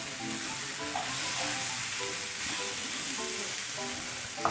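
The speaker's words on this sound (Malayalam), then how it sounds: "ലോ ഫ്ലെയിമിൽ വെച്ചിട്ട് വേണം നമ്മൾ മസാലയൊക്കെ വഴറ്റിയെടുക്കാനും പൊടികളൊക്കെ വഴറ്റിയെടുക്കാനായിട്ട്" Masala and spice powders sautéing in a pan on a low flame for a Kerala-style beef pepper roast, a steady soft sizzle running throughout with faint stirring scrapes and a light tap near the end.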